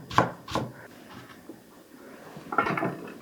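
A kitchen knife slices ham into thin 2–3 mm pieces for a potato salad sandwich, a few crisp taps on the cutting board near the start and again at the end, close and fairly quiet.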